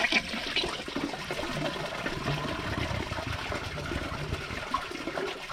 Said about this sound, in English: It just shoots water out of the rim, fills up the bowl, and did not siphon.